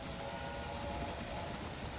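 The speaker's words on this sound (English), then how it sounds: "That's a lot of trains over here." Many trains running in the railway management game Railway Empire, with a steady, loud rolling rumble of rail traffic and faint whistle tones, with no talking.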